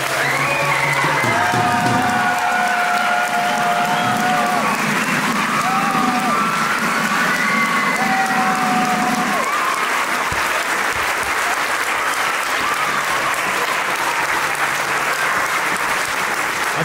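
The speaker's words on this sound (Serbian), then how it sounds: "Molim vas, jedan veliki aplauz za 90." A concert hall audience in Novi Sad applauds a performing group, loud sustained clapping with some cheering, heard first under lingering music and then alone toward the end.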